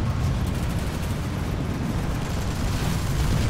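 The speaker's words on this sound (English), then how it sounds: "Oh, that was a grenade." A grenade exploding in Planetside 2: a loud, sustained, rumbling blast with heavy low-end boom and crackling debris, filling the whole short clip without a break.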